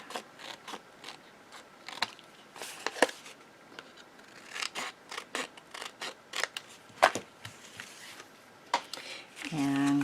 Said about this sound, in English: and then we'll trim any excess off the sides.